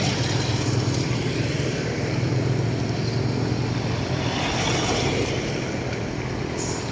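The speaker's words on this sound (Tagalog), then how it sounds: "maingay yung mga sasakyan." Constant vehicle noise fills a parking area, a steady, moderately loud rumble of engines and traffic with no pauses, and a truck is among the vehicles.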